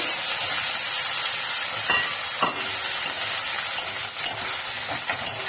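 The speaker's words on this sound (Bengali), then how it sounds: "বেগুনটা একটু লাল লাল করে ভেজে নেব" Brinjal pieces fry in hot oil with nigella seeds for a Bengali drumstick-flower chorchori, giving a continuous close sizzle with a couple of brief scraping knocks as the pieces are moved.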